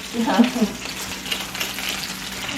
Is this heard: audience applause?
no